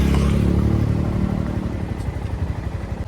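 Motorcycles ridden by boys learning to ride, including a Himalayan, rumble and rev loudly nearby, a heavy engine drone with uneven throttle bursts and clattering, fading slightly toward the end.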